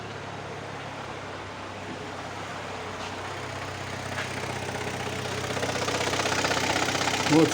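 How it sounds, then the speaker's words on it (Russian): Hyundai ix35 running with a suspected gearbox or clutch fault, a steady mid-low engine drone with a continuous whirring noise that grows gradually louder, heard up close with no talking. "с характерным шумом в коробке, в области коробки"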